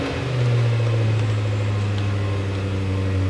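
A Range Rover SVR fitted with a Quicksilver exhaust revs close by, its low engine drone swelling briefly and then holding a steady rumble for a few seconds.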